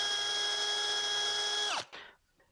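A power drill bores a pilot hole into a wooden ornament, a steady high whine held close for nearly two seconds before winding down abruptly.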